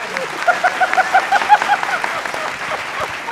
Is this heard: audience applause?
yes